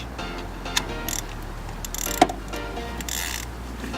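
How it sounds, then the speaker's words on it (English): A ratcheting wrench tightening a spark plug on a 2005-2016 Nissan Xterra, a few sharp metallic clicks and ratchet ticks over a faint mechanical background, close and fairly quiet. "Now just use your wrench."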